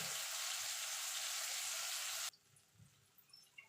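Tomatoes cook in a pan for vegetable dal, giving a steady, bright sizzle that cuts off abruptly partway through, followed by quiet, scattered stirring sounds.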